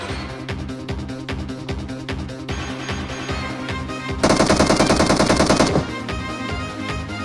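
Rapid automatic gunfire from PUBG Mobile gameplay rattles in close, loud bursts, with a dense, louder volley in the middle of the clip.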